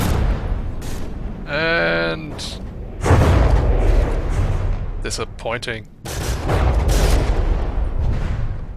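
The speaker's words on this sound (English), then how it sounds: "Look at this firing line of just CRAM cannons." A barrage of CRAM cannons firing along a line in the naval combat game From the Depths, heavy booming volleys and rumbling blasts in loud bursts, with a voice speaking briefly between shots.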